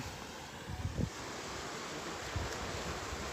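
The Kalpathy river in Palakkad runs past a temple, its broad rushing water noise steady and close, mixed with blustery wind buffeting the microphone and a few low thumps.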